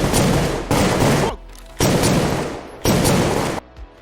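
Live-ammunition gunfire in a film: three loud, sustained bursts of rapid automatic shots separated by short quiet gaps.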